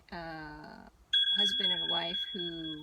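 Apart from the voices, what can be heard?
mobile phone ringing with a bell tone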